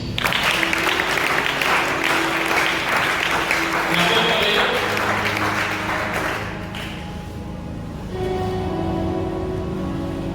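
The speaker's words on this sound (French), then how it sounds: "Acclame pour le Seigneur." A congregation at a Baptist youth seminar breaks into dense, loud applause that holds for several seconds, then thins and fades into room noise with some murmuring.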